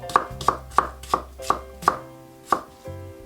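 A knife rough-slices green tomato on a cutting board, seven crisp close chops in a steady rhythm with no talking.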